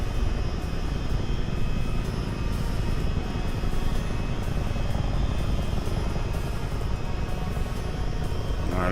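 A Chinook tandem-rotor helicopter flies at night in Microsoft Flight Simulator 2020, with a steady, loud, dense engine and rotor drone that stays constant throughout and no talking.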